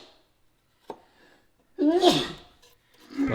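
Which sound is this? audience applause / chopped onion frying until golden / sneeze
sneeze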